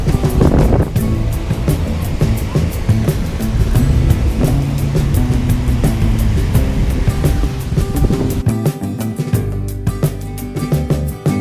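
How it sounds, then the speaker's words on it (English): Surf rolls onto a beach at Gulf Shores, Alabama, a loud continuous wash of waves with wind buffeting the microphone throughout. "Wow, Jojo, look how beautiful the beach."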